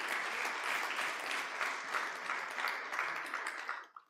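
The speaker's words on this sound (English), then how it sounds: "Please, a round of applause for him." Steady applause from a conference audience at a hotel managers' event, a dense even patter of many hands that holds for about four seconds and then quickly fades out.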